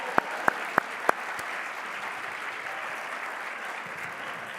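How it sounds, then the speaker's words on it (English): Applause from an audience at a university research and scholarship day keynote, with a few sharp nearby claps standing out at the start over steady, fairly quiet crowd clapping. "So maybe a round of applause for."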